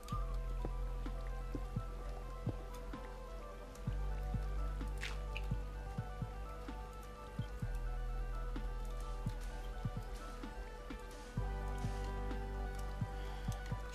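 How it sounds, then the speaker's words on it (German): Flowing water and lava in the Minecraft video game give a steady trickling wash with frequent sharp drips and small splashes, fairly quiet and continuous. "Jetzt kommt da wieder Lava runter. Wasser runter."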